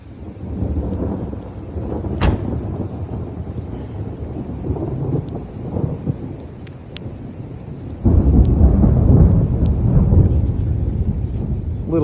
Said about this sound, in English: Little bit of thunder.